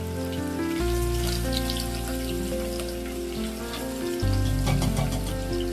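Green chillies and onions frying in hot oil for palak dal, a steady crackling sizzle with spitting pops, close and continuous, over a low humming tone; no talk.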